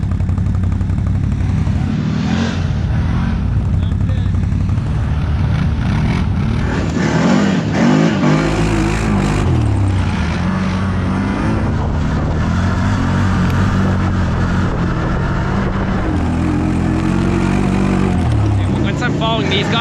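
A CFMOTO side-by-side UTV engine drones loud and close on trails, rising and falling in pitch as it revs and pulls, with voices talking over it.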